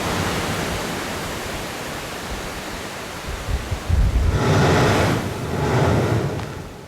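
Waves surge through a blowhole on a rugged Caribbean coast, a steady broadband roar of surf that swells into heavier, louder rushes toward the end, with no voices.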